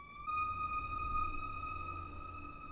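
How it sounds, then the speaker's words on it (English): Ambulance and police car sirens wail outside in a residential neighborhood, a steady sustained tone heard faintly through the walls over a low background rumble, with no voices. "Ambulance and police car."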